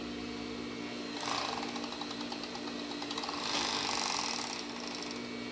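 A sewing machine stitching lace panties, a steady close mechanical whir that swells louder in two bursts of fast stitching.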